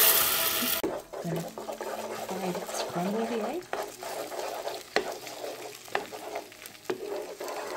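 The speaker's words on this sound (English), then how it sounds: "I'm going to start by frying the eggs." Eggs frying in hot oil for a vegetarian noodle dish make a soft crackling sizzle under scraping and stirring in a pan, with a few sharp clinks and a hum of background noise.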